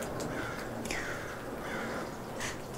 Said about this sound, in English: I really hope you can hear these crows because they make the funniest noises.